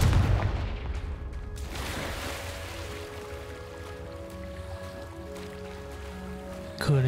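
A Confringo blasting spell in the video game Hogwarts Legacy bursts as a heavy, booming explosion that decays into a low rumble with ringing tones, followed by a second thud near the end.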